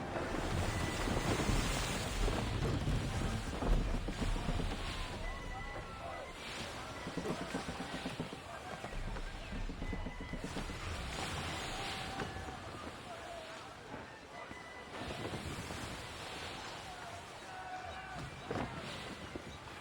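Wind and sea waves while sailing a ship in Assassin's Creed 3, a continuous rushing wash of surf and gusts under frequent shouted voices and game sounds.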